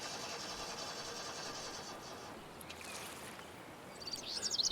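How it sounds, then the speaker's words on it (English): A vehicle tries to start nearby in the fishing game Russian Fishing 4, making a faint, steady mechanical whirr under soft ambient noise, with a quick bird twitter joining at the end. Nobody talks. "Why is somebody trying to start the vehicle beside us?"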